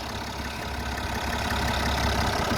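Repaired BMW F11 535xd diesel idling smoothly, a close, continuous low rumble with a faint ticking texture, steady from start to finish with no voices.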